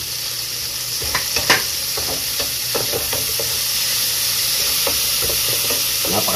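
Tomatoes frying in a pan for sautéed cabbage give a steady hiss and sizzle, with scattered stirring scrapes and pops.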